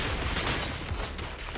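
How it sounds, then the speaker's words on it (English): Dense, continuous gunfire rattling in a video game, a sustained burst of overlapping shots aimed at the player that stays loud throughout without letup. "Oh, I'm getting shot at immediately."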